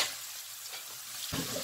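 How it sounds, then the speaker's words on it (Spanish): Cuban aporreado de col, a cabbage dish, sizzling steadily in a pan while being stirred, with a brief louder scrape or clatter near the end and no talk. "Vamos a revolver."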